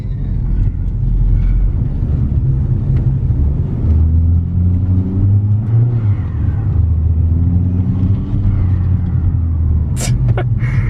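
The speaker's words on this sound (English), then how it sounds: "Mashing on the gas and letting off just to hear it." A newly bought car with a blowout valve revs repeatedly as the throttle is mashed and released, a loud, close engine roar rising and falling in waves, with a brief sharp release near the end and no talk.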